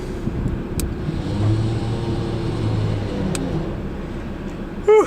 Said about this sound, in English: I'm going to start the car and just have the engine running in neutral.